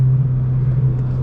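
Toyota GR86 engine with an MBRP aftermarket exhaust, a deep steady idle drone that holds loud and even throughout with no talking.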